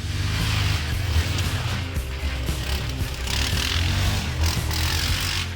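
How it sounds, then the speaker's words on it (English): A 2024 Yamaha Grizzly 700 EPS ATV on its stock exhaust gives a low, rumbling engine growl with uneven throttle pulses, loud and close, with no speech. "I'm also a huge fan of the snotty low growl from the Grizzly stock exhaust."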